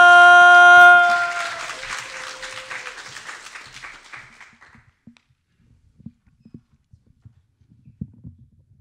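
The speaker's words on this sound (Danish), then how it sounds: "Og bliv ved med at klappe for den næste slammer," Audience applause at a 2018 poetry slam, starting after a brief musical chord and thinning out over several seconds into scattered claps and faint rustling.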